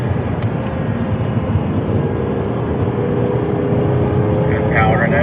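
An Audi R8 powers out of a corner on a lead-follow track drive, its engine note a steady loud drone heard from inside the car, with a faint tone rising toward the end.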